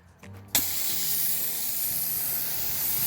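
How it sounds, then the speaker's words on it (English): Hose-end sprayer connected to a garden hose misting foliar fertilizer onto fruit trees; after a couple of brief clicks it bursts into a loud, steady hiss of spray that holds on, close by. "I have this connected to the hose and my magic fruit tree folio spray"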